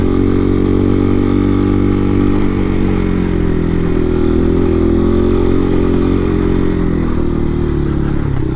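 A motorcycle's engine drones loudly and steadily while riding on the fast road toward Lobo, Batangas. Wind buffeting and road rumble run under it, with no break in the noise.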